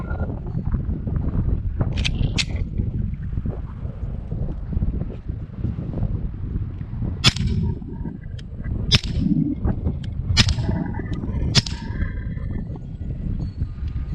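Subsonic handgun rounds fired through a Dead Air Primal suppressor outdoors, heard as several sharp, muffled cracks spaced irregularly over a windy, rumbling background.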